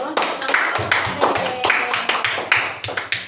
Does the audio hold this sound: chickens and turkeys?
no